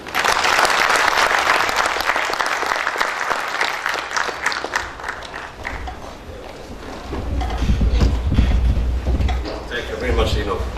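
Audience applause at the end of a presentation at a conference, a dense wash of clapping from a crowd that swells and fades over several seconds, with some voices in the room.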